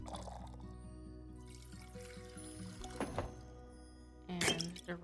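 Liquid poured for a drink at a fantasy tavern counter, a quiet trickle and splash that comes in short bursts with clinks, heard faintly against a soft ambient background without speech.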